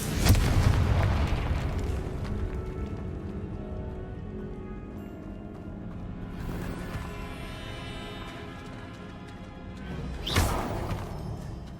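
Repeated Confringo blasting-spell explosions in Hogwarts Legacy: a loud crackling burst opens, a fainter blast follows mid-way and a sharp bang comes near the end, with rumbling debris between them and no voices.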